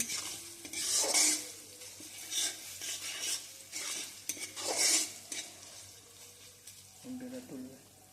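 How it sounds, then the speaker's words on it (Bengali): Onion being stirred with ginger-garlic paste in a pan for chicken momo filling, a scraping spoon-on-pan rhythm over a soft sizzle, in repeated strokes with brief pauses, close and moderately loud. "আদা রসুন বাটাটা দিয়ে সব কিছুকে আমি আবারও খুব ভালোভাবে নাড়াচাড়া করে মিশিয়ে"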